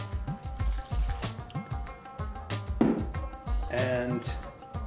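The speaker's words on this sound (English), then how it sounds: "And I'm also gonna add my cold water" Cold water trickles and splashes into a bowl of flour and salt for fried chicken wing batter, close and fairly soft, with gurgling and dripping over several seconds and some background voice.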